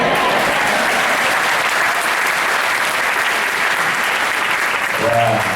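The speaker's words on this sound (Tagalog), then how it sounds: "nakuha ko yung aking palakpak" A large audience at a chorus reunion concert claps steadily in a dense, sustained round of applause that fills the whole stretch at even loudness, with no talking over it.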